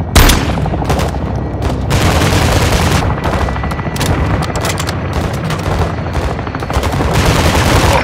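Helicopter gunfire in Call of Duty: Modern Warfare II, dense sustained bursts of rapid automatic shots and booming impacts running continuously at high loudness, close and heavy, with no pauses.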